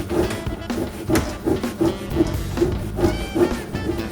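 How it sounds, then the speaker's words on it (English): Grime loosened by a cleaner-degreaser is wiped off a surface, giving a steady close rubbing and scrubbing sound with a rhythmic squeak about twice a second. "let's try wiping it off now and see if there's any better results"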